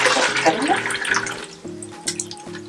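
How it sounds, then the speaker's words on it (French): Cold water is poured and splashes for hair washing, a close rushing stream that fades after about a second and a half, while a voice talks over it throughout. "je mets de l'eau froide parce qu'il n'y a plus d'eau chaude"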